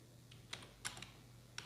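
Keys clatter on a computer keyboard during data entry in an Excel spreadsheet, a few quick separate taps and short bursts, close and crisp over a low steady hum.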